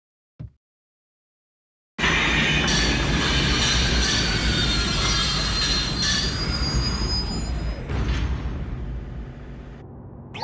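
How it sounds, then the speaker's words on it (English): A train pulls into Kanai Ward station in the Rain Code video game, bursting in loudly after silence with screeching wheel squeal and rumbling carriages that ease slightly toward the end. "We are approaching Kanai Ward. Please watch your step while exiting the train."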